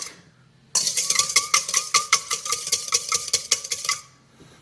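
An egg whisked in a bowl with a wire whisk for an apple tart batter, rapid rhythmic metallic clicking against the bowl, close, starting abruptly and stopping after about three seconds, with no voices.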